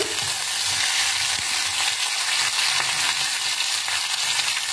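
Vegetables sautéing in hot oil for a Tamil kari crackle in a loud, continuous sizzle with occasional stirring scrapes, no voices over it.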